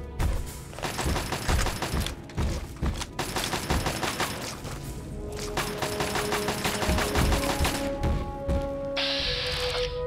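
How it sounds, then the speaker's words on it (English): Rapid gunfire in Fallout 3, a dense stream of sharp shots and cracks from several weapons, loud and close, continuing without pause before a high electronic whine rises at the end. "What are you guys shooting at?"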